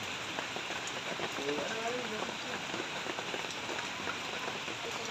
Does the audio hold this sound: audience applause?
no